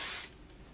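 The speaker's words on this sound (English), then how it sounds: "take my hairspray and I'll just be careful to spray it away from my face and kind of pick up on the curls" Hairspray from an aerosol can sprayed onto curled hair, a single short close hiss that fades out quickly, with no talking.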